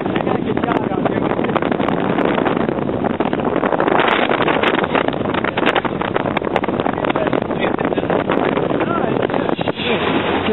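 Heavy wind buffets a boat in rough water on Lake Michigan, a loud, constant roar with engine and water rush beneath it, continuous and close to the microphone.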